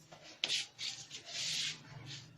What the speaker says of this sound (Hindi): इस साबुत लहसुन को हम छील लेंगे।